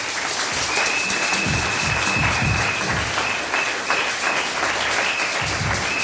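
Church congregation applauding together, a dense, sustained wash of clapping that holds steadily loud throughout with no pauses.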